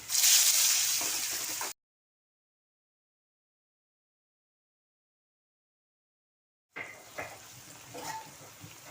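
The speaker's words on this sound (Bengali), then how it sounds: "এখন আমি পনির ভেজে নেব" Paneer cubes seasoned with a little turmeric and salt sizzle as they fry in a pan, a loud close hiss that cuts out into silence for several seconds, then resumes more quietly with light crackling.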